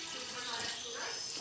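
Vinegar pours into a pot of fish pickle in a soft, continuous liquid hiss that stays even and close for a brief moment.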